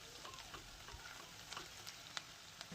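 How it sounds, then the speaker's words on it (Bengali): Chopped onion frying in oil, a faint, even sizzle with occasional soft stirring ticks and scrapes, steady and unbroken for a few seconds. "এরপর ওই তেলেই দিয়ে দেবো 1/2 কাপের মতো পেঁয়াজ কুচি"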